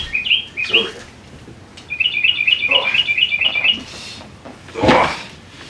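Real birds kept inside a large board game box chirp in short bursts, with a quick run of rapid repeated tweets in the middle, close and fairly clear, amid light rustling and handling sounds.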